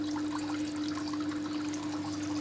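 Water pours steadily from a pump outlet pipe in a geothermal hydroponics setup used for growing strawberries, a continuous close trickling splash with a constant low hum underneath.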